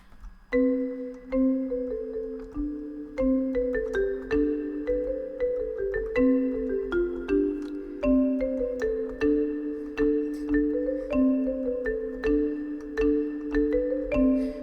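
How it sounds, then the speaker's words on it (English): A bright mallet melody on a GarageBand marimba plays continuously, with ringing wooden notes rising and falling in a steady rhythm, no voices. "So now let's record the marimba."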